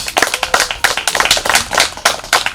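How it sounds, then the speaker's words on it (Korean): Audience in a lecture hall clapping warmly, a dense run of sharp hand claps with uneven rhythm, loud and close, swelling and fading in small waves for a few seconds without talk. "뜨거운 박수 한번 보내주십시오."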